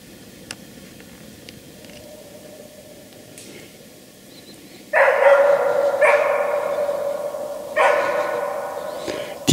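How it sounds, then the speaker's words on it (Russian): A dog barks somewhere in a quiet forest, a few loud yelping bursts carrying from a distance against a hushed woodland background. "Тихо сегодня, лай далеко слышно."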